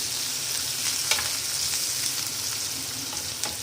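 Finely chopped onion sautéing in oil in a pan for a masala corn sabzi: a steady, close, bright sizzle with occasional stirring clicks, no voices.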